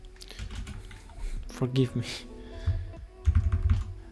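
Typing on a new computer keyboard during a coding stream, scattered bursts of quick, close key clicks and a few heavier thumps, with someone talking over them.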